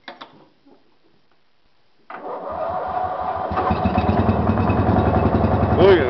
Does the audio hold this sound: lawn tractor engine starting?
yes